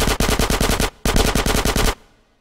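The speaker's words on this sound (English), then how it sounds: "Get some suppressing fire in there!" Two long bursts of rapid automatic gunfire in Grand Theft Auto San Andreas Remastered on PC, loud and close, separated by a brief pause and ending in a fading echo.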